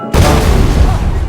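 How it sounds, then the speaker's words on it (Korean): A sudden, very loud bomb blast in a WWII special-forces drama, hitting at once and then rumbling and crackling on with a dense roar for over a second. "폭탄이 터지며 경계가 강화되자"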